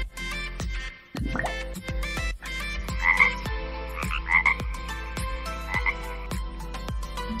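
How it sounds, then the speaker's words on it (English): A frog animal toy croaks repeatedly in a steady rhythm over a musical backing track, each croak clear and close. "Frog."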